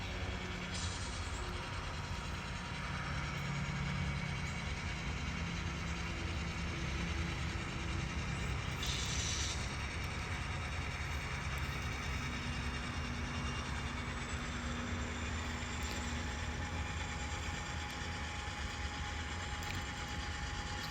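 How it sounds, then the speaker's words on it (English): Model railroad train on a layout rolls steadily into the Chillicothe town scene on the Parkersburg-Cincinnati run, a continuous low rumble of wheels and motor close by, with no talking. "The train's pulling into town."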